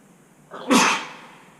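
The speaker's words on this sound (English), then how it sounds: "I'm going to sneeze." A single loud sneeze up close, a quick intake of breath followed by a sharp burst that fades away.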